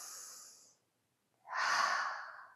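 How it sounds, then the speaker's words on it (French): Slow, deep breathing during a yoga shoulder-strengthening session: a soft exhale trails off, a short silence follows, then a fuller, louder breath swells close to the mic, with no talking. "Encore une respiration."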